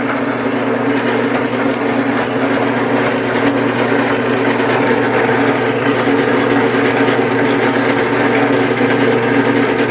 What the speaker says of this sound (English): And you have to do this in a drill press.